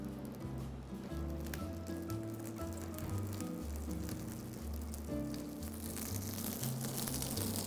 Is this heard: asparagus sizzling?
yes